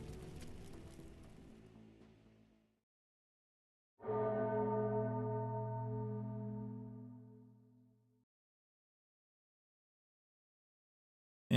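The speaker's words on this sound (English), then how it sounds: "Anduin hears a bell clear as day." A bell tolls in the video game Arknights, struck once after a short pause and ringing out with a long, clear decay that fades to silence over about four seconds.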